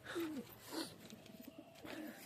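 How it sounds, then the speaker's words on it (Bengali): Pigeons perched on straw coo in soft, low rolling phrases, a few separate calls near the start, middle and end, fairly close with faint outdoor background. "কত পায়রা সব খড়ে বসে আছে"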